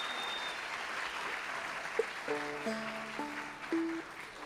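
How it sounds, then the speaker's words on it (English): A crowd at a mountain dance and folk festival applauds with a steady, soft wash of clapping, as a few plucked banjo notes ring out partway through. "Again, another round of applause, please,"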